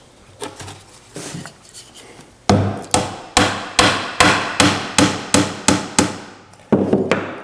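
Hammer blows drive dowels into oak and marine plywood step-stool treads, first a few lighter taps, then a close, loud, evenly paced run of about a dozen sharp strikes.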